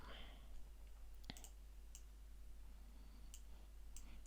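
Computer mouse clicking at a desk, a handful of faint, crisp single clicks spread over a quiet room hum.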